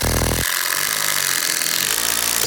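Power tool driving a screw through a wall base, a loud whirring burst at the start, then a steady hum of workshop noise with a second fainter motor run near the end.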